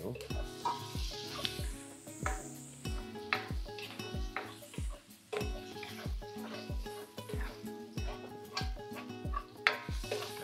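Pork belly frying in its own fat, a constant close sizzle beneath rhythmic thumping and tonal, music-like sounds that repeat through the whole stretch.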